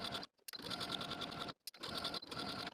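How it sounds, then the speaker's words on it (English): A sewing machine edge-stitches along the inner fold of a blouse placket, running in two steady bursts of fast rhythmic stitching separated by short pauses, close and clear. "Take it to our machine and edge stitch all along this inner fold to create a nice finished placket"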